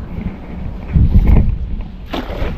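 Strong wind buffets the microphone on a fishing boat at sea, gusty low rumbling with irregular surges and splashy water noise, no speech.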